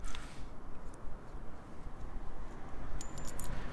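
Old silver and gold coins pulled up by magnet fishing clink and jingle together, with a few bright metallic taps and a brief cluster of rattling near the end over quiet background.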